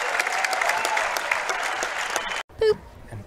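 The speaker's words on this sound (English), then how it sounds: "We got a standing ovation going on now." A crowd at the championship court of the 2019 USA Pickleball National Championships gives a standing ovation, with dense, loud, steady applause and cheering that breaks off near the end, followed by a brief voice.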